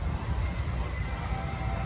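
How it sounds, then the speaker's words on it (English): A sweaty horse at the 2024 Boone County Fair, heard as a steady, close, low-pitched rumble of snorting and shifting with barn noise throughout, no distinct neigh standing out. "look how sweaty this horse is"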